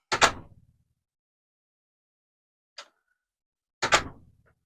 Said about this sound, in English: Garage door.